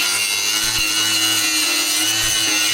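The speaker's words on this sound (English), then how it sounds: "I'm gonna get the grinder on here," An angle grinder cuts into rusty, rotted body metal on an old Jeep CJ-7, a loud, steady, close abrasive roar running without a break and with no talk over it.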